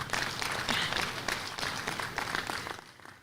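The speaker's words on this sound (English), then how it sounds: "Y'all all deserve a round of applause." An audience at a livestock barrow sale applauds, a dense, steady round of clapping from a crowd that fades slightly toward the end.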